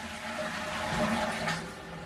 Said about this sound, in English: This is GROHE even flush plate, systems water saving dual flush with start and stop activation for pneumatic drop valve.